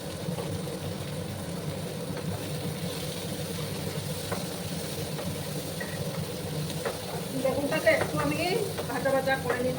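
Sliced eggplant fries with onions in a pan, a soft continuous sizzle with occasional stirring scrapes that grow busier toward the end, while someone talks over it.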